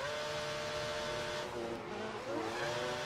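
A Formula One race car engine in the F1 2012 racing game screams loud and continuous, its high, rough whine sweeping up and down in pitch as the car spins and revs.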